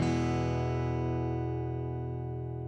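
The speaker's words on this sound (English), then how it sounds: "If all goes well, when you strum the strings, it should sound like this." A strummed guitar chord rings out sustained and even, the strings blending into a full, steady tone that fades only slightly over nearly three seconds, heard alone at moderate volume.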